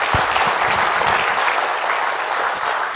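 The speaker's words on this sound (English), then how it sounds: "Big round of applause" A conference audience at a JavaScript tech talk breaks into applause, a thick, continuous patter of many hands clapping, loud and steady for three seconds.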